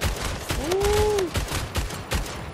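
Rapid gunshots in the arena shooter Splitgate crack in quick bursts, loud and close, forming a fast irregular rhythm with a short whooshing tone partway through.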